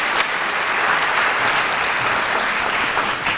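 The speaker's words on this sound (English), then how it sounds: "Let's give them all another round of applause." Sustained audience applause at a symposium on immigration in Texas, a dense wash of many hands clapping steadily and fairly loud throughout, with no talk over it.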